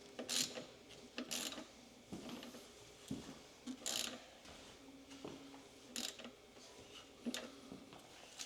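A ratchet snugs the transmission drain and check plugs on a 2014 Toyota FJ Cruiser, giving several short, quiet bursts of clicking separated by pauses, with faint metallic handling in between.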